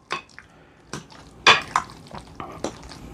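Spoon and fork mixing porcini mushroom ravioli filling in a bowl, giving a handful of separate scraping clinks and soft wet stirs at close range, with short pauses between strokes.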